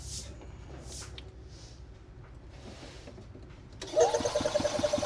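A Robin engine on an EZGO golf cart cranks without firing, starting as a sudden loud rhythmic churning after a few seconds of quiet background noise and faint clicks.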